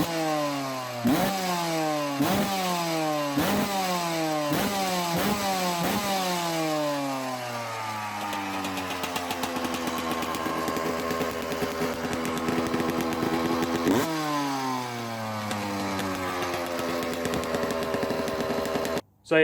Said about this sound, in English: the bike runs really well, sounds real crisp.